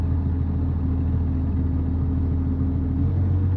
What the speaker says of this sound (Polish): Już traktor nam jedzie do tyłu.